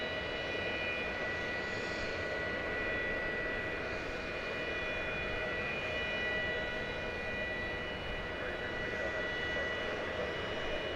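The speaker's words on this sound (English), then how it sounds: "It's American Flight 328. It's going to Chicago O'Hare. It's an Airbus A321." An American Airlines Airbus A321 jet, flight 328 bound for Chicago O'Hare, roars at the airport in a steady, broad engine rumble with a faint whine, holding level throughout.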